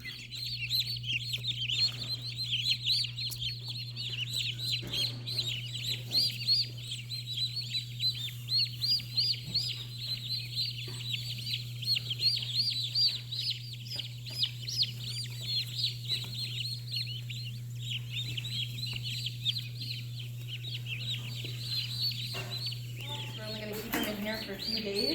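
Day-old baby chicks in a brooder box peep constantly in a dense, high, continuous chorus of chirps at close range, over a steady low electrical hum, with faint handling noises toward the end.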